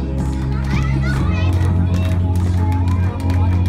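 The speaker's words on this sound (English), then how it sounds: "Hands clapping." Children at a bar mitzvah party game clap their hands amid a busy, noisy room, the patter of claps mixed with kids' chatter and loud background music throughout.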